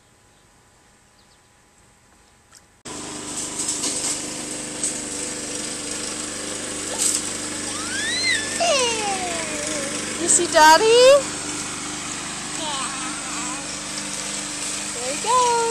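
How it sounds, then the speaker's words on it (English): Lawn mower running steadily at a distance while someone mows grass in a yard, a continuous engine drone under a child's and adult's talk. "He's mowing."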